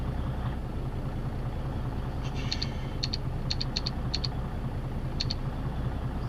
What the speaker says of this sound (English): just punching in the address into the GPS